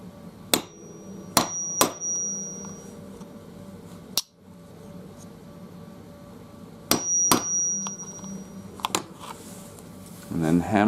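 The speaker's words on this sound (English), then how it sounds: "And then hammer it in gently" A disc magnet tapped into a hole in a resin-printed tabletop miniature with a hammer and nail set, several sharp close knocks in small clusters with quiet gaps between them.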